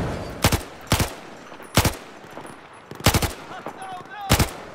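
Bursts of automatic gunfire in the video game Battlefield 4, about five sharp close volleys spaced roughly a second apart, with faint background noise between.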